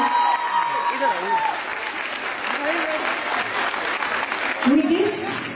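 An audience at a Queens Day event applauds to welcome and thank a guest, with steady clapping running throughout while a voice speaks over it.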